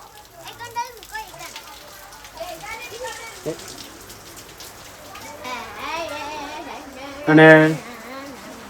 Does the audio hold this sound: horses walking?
no